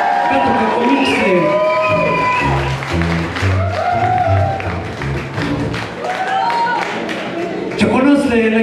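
A concert crowd at a show in Tlalnepantla claps, cheers and whoops loudly and steadily, while an amplified announcer talks over the noise throughout.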